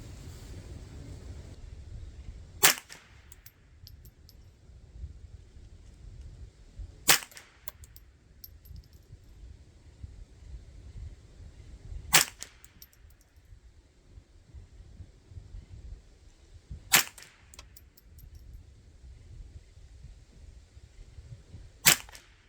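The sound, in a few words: rifle gunshots, .22 Ruger 10/22 or Marlin Model 60, CCI Standard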